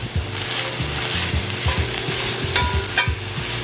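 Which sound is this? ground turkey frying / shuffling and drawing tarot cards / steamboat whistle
ground turkey frying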